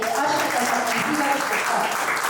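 Audience clapping to welcome an honoured guest at a Gujarati book lecture event, a steady wash of applause from a seated crowd, continuous and fairly loud throughout.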